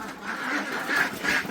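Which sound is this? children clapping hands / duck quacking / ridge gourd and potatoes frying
duck quacking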